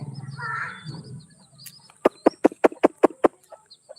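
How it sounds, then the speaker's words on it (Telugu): Chicks cluck close by in a quick burst of about eight sharp, evenly spaced clucks after a short quieter stretch of softer calls. "ఆ కోడి పిల్లలు చూడండి"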